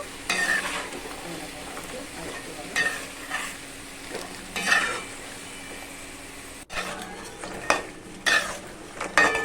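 Dough for katkati, a Bengali fair sweet, fries in hot oil, a continuous close sizzle broken by stirring scrapes and the clink of a utensil against the pan.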